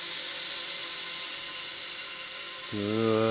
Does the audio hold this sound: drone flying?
yes